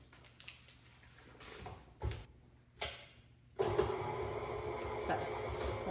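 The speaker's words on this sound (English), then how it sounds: "we are going to add our stick of butter to our mixer" Electric kitchen mixer beating a stick of butter: a few brief knocks and clatters, then the motor starts up into a loud, steady whirring drone that carries on to the end.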